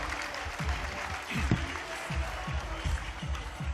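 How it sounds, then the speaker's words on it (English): A basketball crowd at a Nelson Giants v Otago Nuggets game in New Zealand claps at moderate, fairly distant volume, with a steady wash of applause over rhythmic low thuds. "Give them a round of applause, ladies and gentlemen,"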